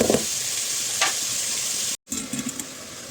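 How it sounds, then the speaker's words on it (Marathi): Onion frying in a pan toward golden brown crackles with a close, continuous sizzle, broken by a couple of stirring scrapes and a brief cut to silence midway. "कांदा तो गोल्डन ब्राऊन होईपर्यंत परतून घ्यायचा आपल्याला."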